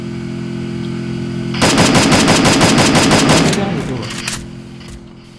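Rapid automatic gunfire from the mobile battle royale game Free Fire, a fast rattling burst of shots that starts abruptly after a quiet moment, runs loud for about two seconds, then tapers off with a few trailing shots.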